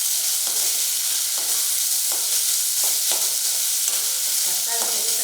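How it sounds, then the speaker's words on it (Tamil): Onions sautéing in a hot pan for a vegetable masala idiyappam, a steady bright sizzle running throughout with several louder stirring scrapes at regular intervals. "இந்த வெங்காயம் நல்லா வதங்கினதுக்கப்புறமா தக்காளி சேர்த்துக்கிறோம்."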